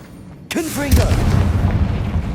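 A single Confringo fire spell explosion from Hogwarts Legacy detonates with a sharp loud boom, then a rumbling burst tails off over a couple of seconds, with a voice calling out the spell.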